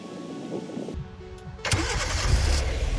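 A 2016–2020 Kia Sorento fitted with a MyKey Premium remote start kit starts remotely: a brief crank catches, then the engine settles into a steady idle close by, with no talk.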